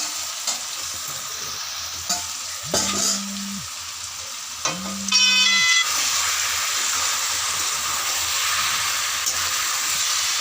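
Raw chicken pieces tipped into a hot oiled pan, a loud steady sizzle that surges and then holds as a continuous frying hiss, with a few clinks and stirring sounds early on.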